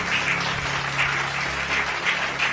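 A church congregation applauds and cheers for Jesus, a steady dense wash of clapping that carries through without a break, fairly loud and close, with no voice rising above it.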